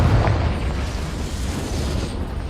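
A Confringo spell explosion in Hogwarts Legacy erupts at the start as a deep boom, then fades into a rumbling, crackling decay that stays fairly loud, with no voices.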